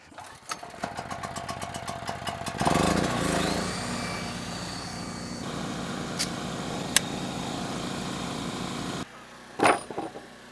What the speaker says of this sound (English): I've got to shut off my generator because I'm running low on fuel